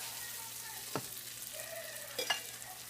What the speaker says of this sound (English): Then you keep stirring. Just keep stirring till it's nice and ready.